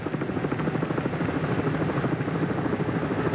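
A television news helicopter flies over the 1982 Bathurst motor race, its rotor thumping loud and steady with a rapid, constant chop throughout.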